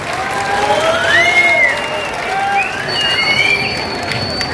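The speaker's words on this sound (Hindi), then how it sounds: "हमारी तरफ से इनके लिए तालियां बजा दो एक बार" A crowd at a party gathering about flood relief applauds loudly, with dense clapping and shrill rising whistles cutting through over several seconds.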